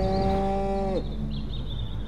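A cow in the Destroy All Humans video game gives one long, loud, drawn-out moo that ends abruptly, followed by a low game ambience with a faint high tone.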